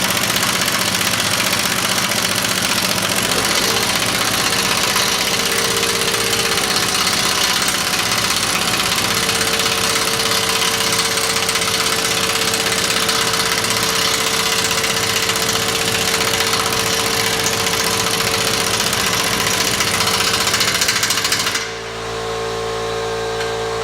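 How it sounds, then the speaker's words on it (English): An air compressor runs steadily in a workshop that is still being built, during Ford 2015 Mustang subframe bushing work, a loud continuous mechanical drone with a rhythmic thump that cuts off abruptly near the end. "air compressor is going to make a lot of noise because we're still building the shop"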